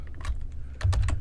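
A short, close burst of computer keyboard typing, with several quick keystrokes clustered at the start and a denser run of taps near the end, with no voices.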